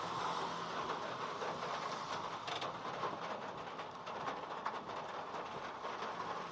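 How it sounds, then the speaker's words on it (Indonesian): Heavy rain hammers a pickup truck creeping through slow traffic in Indonesia, a dense, unbroken roar of drumming water over a low road rumble. "Waduh, tambah parah nih guys hujannya. Tambah deras."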